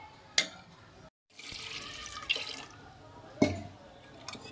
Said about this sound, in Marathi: जरा पाणी टाकते म्हणजे पातेला भरून जाईल